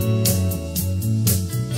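Band-in-a-Box backing track plays chords landing squarely on each beat, with steady sustained harmony and a regular pulse of cymbal-like accents, moderately loud and with no talking.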